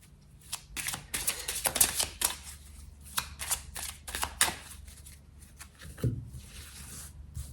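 A deck of tarot cards is shuffled by hand in a dense run of riffling, flicking and sliding bursts, close up, then tapering off into softer handling.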